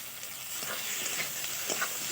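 Potatoes and onions with a bay leaf frying together in oil in a wok, a faint, steady sizzle with soft scraping stirs, quiet and without speech.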